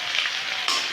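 Soybean chunks and potato sizzling in hot oil with onion and ginger paste, a steady close hiss of frying that swells briefly near the end.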